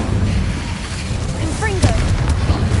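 The Incendio fire spell is cast in the Hogwarts Legacy video game, a loud whooshing burst of flame over a rumbling game soundscape, with a few short swooping tones amid the blast.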